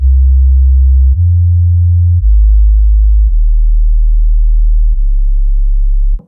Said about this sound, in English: Lovely sine wave. Nothing wrong with the sine wave.